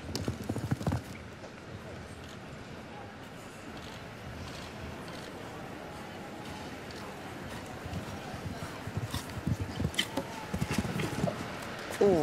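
Horse hooves clip-clop on the ground at a show jumping World Cup event in Oslo, a moderately distant rhythmic beat with occasional heavier thuds, under an announcer's commentary and arena crowd noise.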